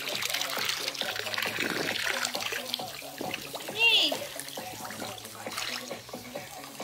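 Very cold water runs steadily from a tap or into a tub, a continuous close splashing trickle while a voice and other talk break in over it.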